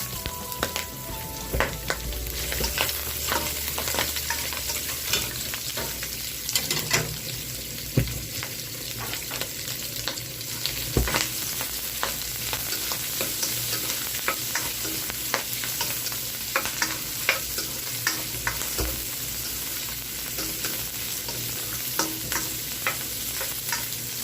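Garlic and ginger frying in a pan, a long steady sizzle with frequent clicks and scrapes of stirring throughout, close and without talk.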